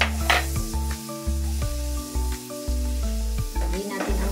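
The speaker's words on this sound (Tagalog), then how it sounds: "lagyan na natin yung ating bawang" Garlic frying in a pan gives a steady close sizzle with brief stirring scrapes, under sustained background music with chords that change every second or so.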